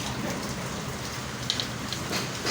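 Steady rain pours down in a continuous hiss, with occasional heavier drops pattering close by.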